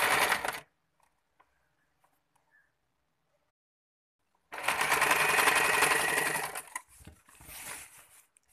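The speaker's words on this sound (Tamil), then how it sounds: "இப்போ நான் ஒரு ஸ்டிச் போட்டுட்ருக்கேன்." A sewing machine stitches a lungi in two bursts, a brief run at the start, then a long steady whirring run after about four seconds of quiet, close and clear with no speech.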